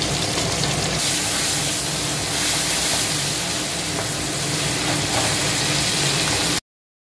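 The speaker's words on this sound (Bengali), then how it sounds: "ভালো করে টমেটোগুলো নেড়ে চেড়ে দিতে হবে" Tomatoes fry with salt and a little turmeric in a pan for a spicy red fish curry, a steady loud sizzle with faint stirring that stops abruptly near the end.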